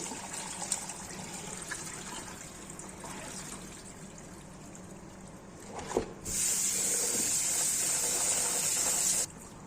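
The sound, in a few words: washing meat in water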